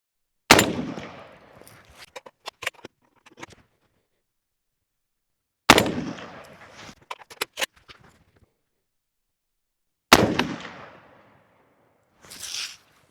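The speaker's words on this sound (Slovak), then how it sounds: "vystrelím, potom dobijem ďalšiu a potom vystrelím znova" Three loud, sharp .308 Win rifle shots from a Grandpower R308 sniper rifle crack out several seconds apart, each followed by rattling bolt and reloading clicks, with a final metallic handling clatter.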